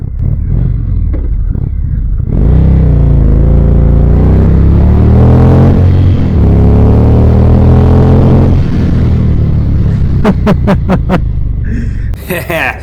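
A 2021 Indian Vintage Dark Horse cruiser motorcycle in sport mode pulls hard from idle, its V-twin engine rising loud and close through a long rumbling acceleration, then easing off with a few sharp clicks near the end.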